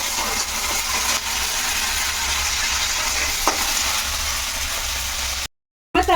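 Chana dal tempering fries in a pan with a steady, dense sizzle and crackle, loud and close, running continuously with a brief stir thump, then cutting off suddenly near the end before a short burst resumes.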